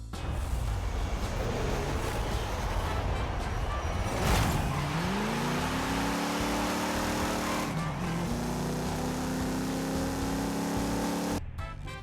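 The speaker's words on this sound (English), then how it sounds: "An old American V8." A 1970 Dodge Charger's old American V8 in Forza Horizon 5 rises and falls through revs with a brief tire squeal, the engine loud and continuous while a voice talks over it.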